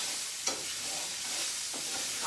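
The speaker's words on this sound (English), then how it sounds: "Let me stir my peppers." Peppers caramelizing in a hot pan alongside broccoli, a quiet continuous sizzle with a few soft stirring scrapes and one small clack near the start; no talking.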